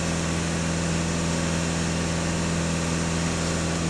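VW Golf 2.0 TDI diesel engine of 200 hp idling during DPF and EGR cleaning, a steady close mechanical drone with a low tonal hum and fine vibration, no talk over it.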